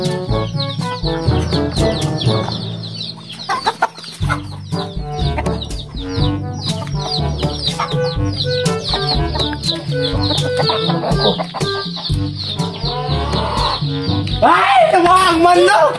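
Chickens cluck and squawk loudly and close by, in busy irregular bursts while startled, with people talking and calling out over them throughout.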